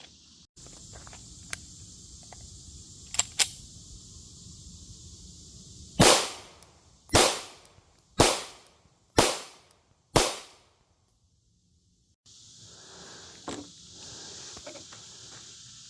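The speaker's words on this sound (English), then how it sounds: "I guess I'll go ahead and shoot 5 more, even though looks fine." Five sharp gunshots from a handgun fitted with a Gideon Alpha red dot, fired at a target during a durability test, ring out about a second apart, each loud and close with a quick decaying tail, after light handling noises and before quiet outdoor ambience.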